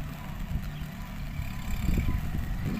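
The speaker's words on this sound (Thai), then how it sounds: "กองทัพรถไถเล็กครับ คูปต้าบีสองสี่สี่ศูนย์นะครับ" A Kubota B2440 small 24-horsepower tractor used for spraying in a sugarcane field, its engine running with a low, steady rumble that stays fairly faint and even throughout.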